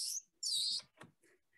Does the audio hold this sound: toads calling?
no